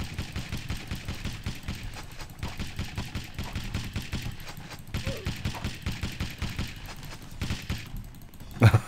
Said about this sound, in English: Shooting upside down?